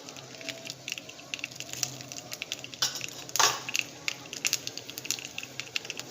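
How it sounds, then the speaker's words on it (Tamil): Mustard and fenugreek seeds sputter in hot oil in a pan, a scatter of small quick pops and crackles with one louder burst in the middle, steady and close with no talk. "ஸோ கடுகு வெந்தயம் பொரியட்டும்."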